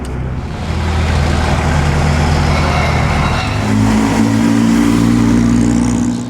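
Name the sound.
four-cylinder Ferrari engine revving at Mille Miglia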